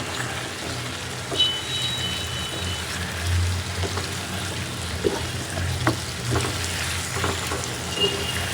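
Pointed gourd pieces frying in an oil pan in a home kitchen, a steady soft sizzle with occasional faint pops and crackles, close and continuous without any talk.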